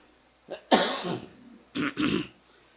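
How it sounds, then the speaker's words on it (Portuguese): Someone clears their throat in a few rough, raspy bursts during a church Sunday school, one strong rasp followed by two shorter ones, close to the microphone. "Um pigarrinho na garganta."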